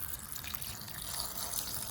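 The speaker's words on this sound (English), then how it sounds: "then poured in just enough water to cover them." Water is poured into a pot over apples, red dates and ginger in a home kitchen, a steady, close splashing stream that runs continuously without talk.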